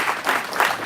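An audience at a sheriff's office event claps continuously in a brief burst of dense, mid-distance applause.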